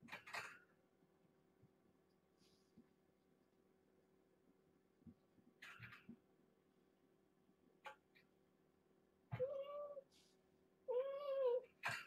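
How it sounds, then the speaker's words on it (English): A mother cat with her kittens in an enclosure: scattered faint rustles, then two clear, close meows near the end over a low steady hum. "Mama's inside this area and she's pinning kittens down to give them a bath, Grant will go in a little kitten cave"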